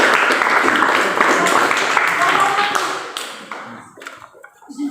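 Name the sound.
applause for the group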